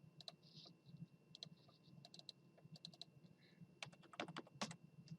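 Keys on a computer keyboard clatter in short bursts of quiet, close clicks, bunching into a faster run near the end, with no speech.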